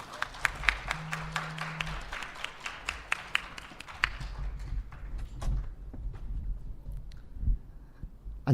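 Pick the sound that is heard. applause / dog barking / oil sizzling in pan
applause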